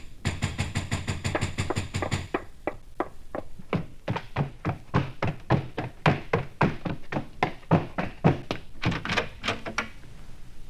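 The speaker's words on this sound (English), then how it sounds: "There came knocking on the street door." Someone knocks on a street door in a long series of close, hollow thuds, first rapid and clustered, then slower and more spaced out, with no voices.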